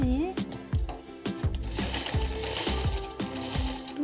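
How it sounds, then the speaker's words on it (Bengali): A sewing machine stitches the belt of a baby frock, its needle running in a fast, steady mechanical rhythm up close, with a voice talking over it. "বেলটা এবারে আমি সেলাই করে নিব।"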